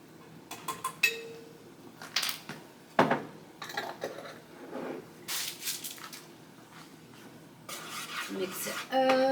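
Garlic stirred into melted butter in a pan on the stove, with scattered scrapes, clinks and knocks of a utensil against the pan and light sizzling between them.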